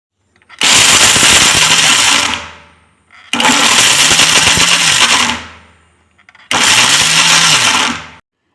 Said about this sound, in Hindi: मिक्सर को फ्लश मोड पर चलाएंगे, यानी कि थोड़ी देर चलाएंगे बंद करेंगे